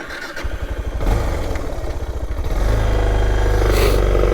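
Suzuki DR650 motorcycle ridden in first gear on a tree-lined track, the engine loud and close, chugging with clatter before building into a steady, stronger drone.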